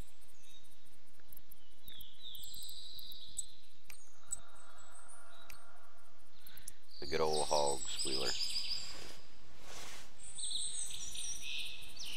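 A pig call sounds in theHunter hunting game, a loud burst of grunting, harmonic squeals roughly midway through against a quiet forest ambience of insects and birds.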